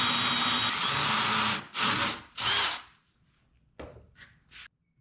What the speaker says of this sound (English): I take a 3/8 inch drill bit and drill a through hole for the threaded insert